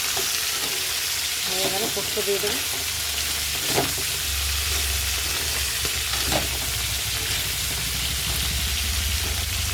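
Vegetable stalks fry in hot oil in a pan with a constant loud sizzle, while a spoon scrapes and stirs in occasional knocks, and a voice speaks briefly over the cooking.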